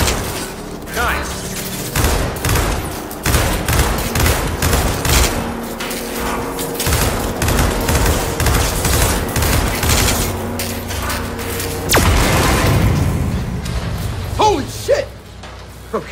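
Gears of War 4 gunfire aimed at a core: sustained rapid shooting and thuds, some of it under speech, then a louder closing volley.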